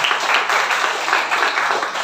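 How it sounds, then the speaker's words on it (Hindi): An audience at a live event claps for a woman called to the stage, a dense, steady wash of applause lasting a couple of seconds with no voices over it. "तालियां तालियां अरुणा जी के लिए तालियां"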